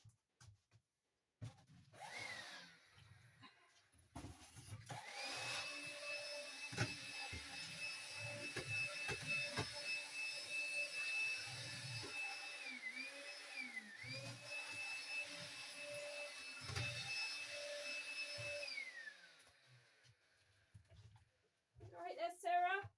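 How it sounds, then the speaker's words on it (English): A vacuum cleaner hoovers a cottage room with a loud, steady whine and roar that starts up, runs continuously with brief pitch dips as it moves, then winds down, with scattered thumps and a voice briefly audible near the end. "I'll finish up the hoovering."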